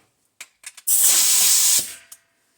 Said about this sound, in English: I'm using 24 grit on an air sander.